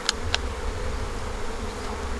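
Steady buzzing of many honeybees around an open hive during queen rearing, a dense close drone with a couple of brief sharp clicks near the start.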